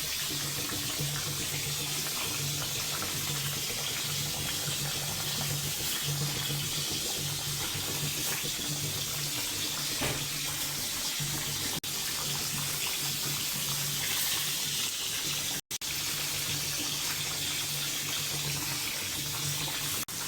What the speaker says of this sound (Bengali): মাছটা কষানো হয়ে গেছে, এখন একটু পানি দিয়ে দিই।